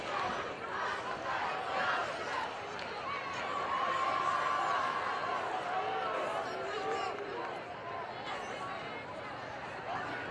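Crowd noise from the stands at a Friday night high school football game, Palmyra-Macedon at Batavia, steady and fairly loud throughout with a dense roar and scattered shouts, no clear peaks of cheering.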